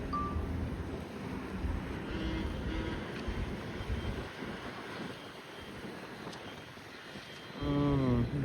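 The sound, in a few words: wind blowing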